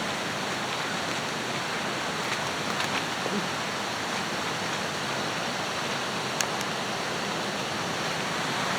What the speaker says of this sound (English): Now you can see that water's flowing through here.